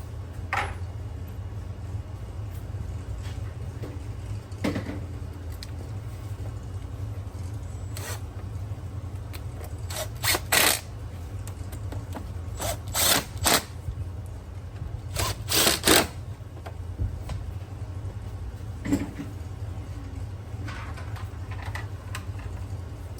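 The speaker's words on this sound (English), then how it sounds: "Put this bolt back in here, like so. Go ahead and tighten it up." Quick runs of small dry clicks, likely a ratchet, tighten a bolt on a Toyota Tundra 4.7L V8 during timing belt work. They come in scattered short clusters, close by, over a steady low hum.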